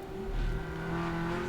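A race car at the 24H COTA USA endurance race gives a brief, steady engine drone with a low rumble that swells a little and then holds.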